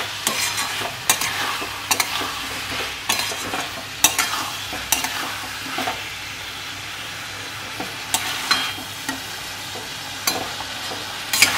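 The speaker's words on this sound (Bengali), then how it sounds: "এবার চিংড়ি মাছ দিয়ে আর একটু ভালো করে কষিয়ে নেব।" Prawns stirred with spice paste in a frying pan: a steady sizzle under repeated scraping and clacking of a spatula against metal, irregular strokes close by, with no speech.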